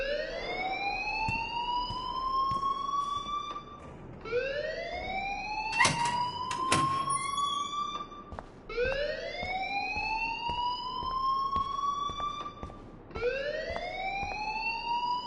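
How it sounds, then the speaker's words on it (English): A school fire alarm in the Life is Strange video game wails in repeated rising siren sweeps, four long cycles, loud and continuous, with a couple of sharp knocking sounds midway and no talking. "please turn off that alarm since that's your job"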